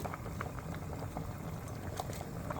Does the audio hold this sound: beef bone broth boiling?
yes